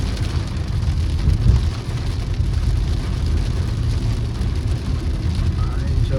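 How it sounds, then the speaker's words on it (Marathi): Heavy rain pounds a moving car on a coastal road trip near Guhagar, a steady dense wash over low engine and road rumble, continuous and fairly loud throughout. "गुहागर मध्ये पोहोचलो आम्ही आणि पावसाला तुफान सुरुवात झालेली आहे."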